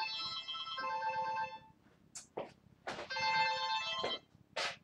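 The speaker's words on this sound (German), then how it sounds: "Warum ist bitte schön mein Telefon an?" A telephone rings twice in close, clear electronic tone bursts, with short soft noises in the gaps between the rings and no talking.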